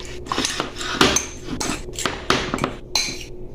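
Small fork clinking against a bowl while mixing eggs with ham, giving a run of light, quick metallic taps and scrapes at close range with no talk.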